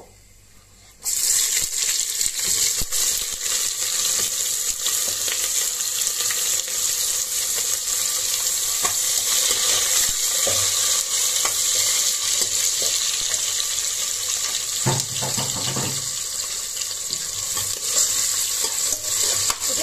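Thinly sliced onions frying in hot oil with bay leaf and cumin in a pan, a loud, steady sizzle that starts abruptly as they go in, with occasional scraping stirs and no talking.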